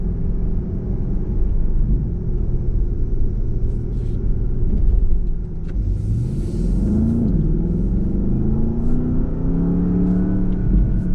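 A 2021 Porsche Panamera Turbo S engine gives a steady low rumble and growl while driving, with rising and falling tones as it pulls, loud and close, heard alone with no talking.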